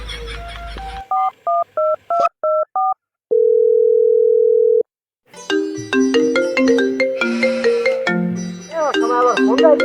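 Telephone being dialed: a quick series of about six short keypad tones, then a long steady single tone, followed by a busy burst of melodic ringtone-like notes that grows louder toward the end.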